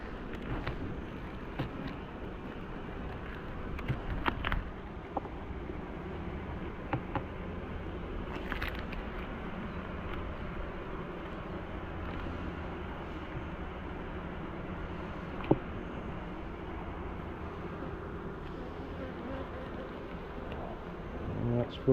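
Honeybees buzz in a calm, opened farm hive during an April inspection, a dense, steady hum that holds for the whole stretch with faint handling noises and occasional low voices.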